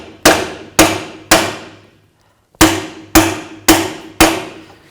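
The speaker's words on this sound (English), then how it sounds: "Take a hammer," Hammer striking a bearing installer to drive a rear axle bearing into a 2000-2006 Chevy Tahoe axle housing: seven sharp metallic clanks, three evenly spaced, a brief pause, then four more, loud and close with ringing decay.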